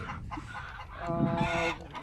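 Chickens cluck close by on a farm in Zambia that keeps hundreds of birds, giving a short burst of layered clucks and squawks with no speech.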